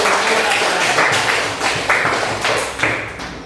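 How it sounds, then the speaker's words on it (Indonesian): Classroom applause for a student group during a religious-education lesson: a patterned burst of handclaps and thumps in short rhythmic blocks, fairly loud and close, easing off at the end. "Tepuk tangan untuk kelompok 1."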